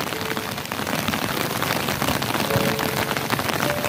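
Steady rain pattering on an umbrella outdoors, a continuous dense hiss of drops at close range with no talk.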